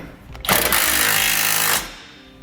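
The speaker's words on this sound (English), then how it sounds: "We can come back with the 19mm socket and snug up all our hardware." A power tool spinning a 19mm socket to tighten trailer hitch hardware on a 2018 Nissan Rogue gives one loud, rattling burst of about a second and a half, close up, then cuts off.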